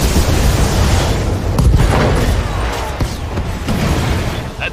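Weapons fire and explosions from the 1993 Interplay game Star Trek: Judgment Rites fill the space with loud, continuous low rumbling booms and bursts.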